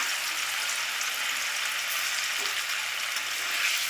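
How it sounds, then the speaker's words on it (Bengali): Paneer pieces fry in hot oil, giving a steady, dense sizzle that holds evenly throughout, close by and without any talking. "এবারে ওই তেলে দিয়ে দেব পনিরগুলো একটু হালকা করে ভেজে নেব"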